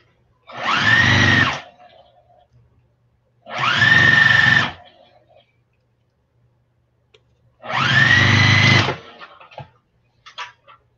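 A sewing machine stitches a quilt piece on for a Farmer's Wife quilt block in three short whirring bursts, each lasting about a second, separated by quiet pauses.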